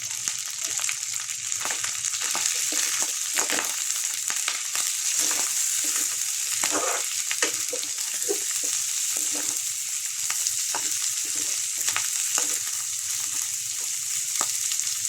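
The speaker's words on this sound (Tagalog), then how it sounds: "igigisa natin ang ating sibuyas at bawang at ang ating giniling" Chopped onion, garlic and ground pork sizzle steadily in a hot pan, a loud, continuous close-up fry with scraping stirring strokes throughout and no talking.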